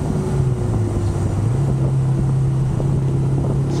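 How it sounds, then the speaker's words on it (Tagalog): A Benelli Imperiale 400 motorcycle engine hums steadily at speed on an expressway in North Luzon, a low continuous drone mixed with heavy wind rush, with no speech. "Maganda yung response ng engine walang vibration, and ayun, stable siya."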